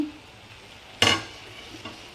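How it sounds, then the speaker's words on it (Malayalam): Half-fried chicken drops into a pan of ground masala paste, making one sudden sizzling hiss that fades quickly, followed by a faint stir, in an otherwise quiet kitchen. "അപ്പോൾ ഇതിലേക്ക് നമ്മൾ ആ ചിക്കൻ ഇട്ട് കൊടുക്കുകയാണ്."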